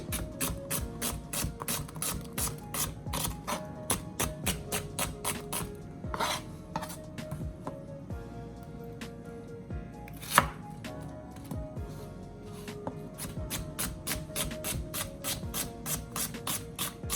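A knife chops onions on a cutting board for an ackee and saltfish dish, making a fast, steady run of crisp knocks with brief pauses and one louder thwack midway, fairly close and with no talking.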